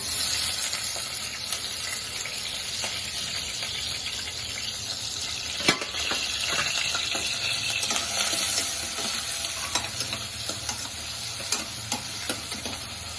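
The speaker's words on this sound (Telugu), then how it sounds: "ఇప్పుడు మనం ఉల్లిపాయలు వేసుకున్నాం" Chopped large onions frying in a pan with oil, a steady close sizzle running throughout with occasional stirring clicks and scrapes, no voices.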